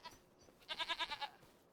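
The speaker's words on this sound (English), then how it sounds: "So we have 3 brand new baby goats out here on the farm." Baby goats bleat in Farming Simulator 25, with a faint short call early on followed by one clear, wavering multi-pulse bleat, fairly quiet and alone.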